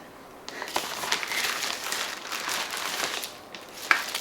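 Plastic zip-seal bag, like a Ziploc, holding PC power supply accessories, crinkles and rustles close up in a steady run of crackly handling that ends in a sharper crunch.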